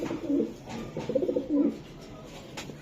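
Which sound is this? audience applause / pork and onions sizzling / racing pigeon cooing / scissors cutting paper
racing pigeon cooing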